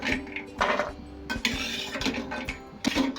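Cashews being lightly browned in ghee in a metal pan: a spatula scrapes and clinks against the pan in a few short, uneven bursts over a low background hum.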